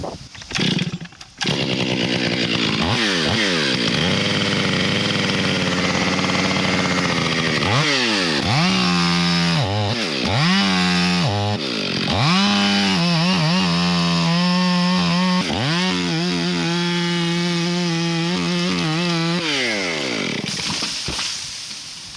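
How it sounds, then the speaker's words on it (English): A chainsaw cuts through a tree during a removal job, loud and close, running at a steady high whine with repeated rev-ups and dips as the bar works through the wood, continuous for over twenty seconds. "I can cut and have the whole thing fall out into the yard there in one big piece"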